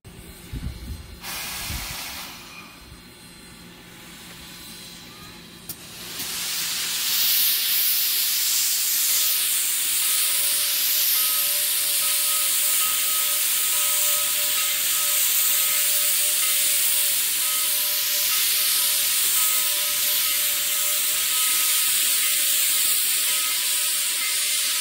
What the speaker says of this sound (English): The 4501 would put on a show with the cylinder cocks open on a slight uphill grade.